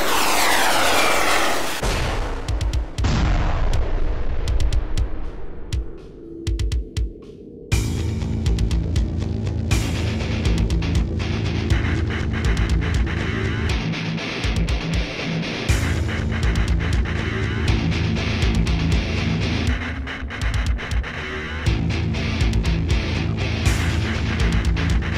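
An airstrike hits a position: a jet aircraft roars in loudly overhead, followed by a long, sustained barrage of heavy firing and rumbling engine noise that fills the scene, briefly dropping off before resuming.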